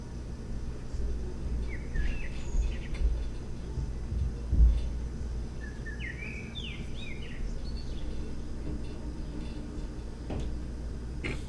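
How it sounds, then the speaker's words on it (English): Birds sing in a hometown setting in winter around Christmas, with short chirping phrases off at a distance over a steady low ambient hum and faint ticking. "Listen to some birds for a second."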